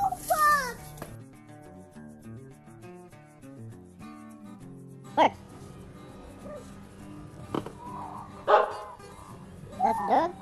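A toy dog in a store gives several short, scattered barks and yips over a quiet musical jingle, with a voice heard now and then.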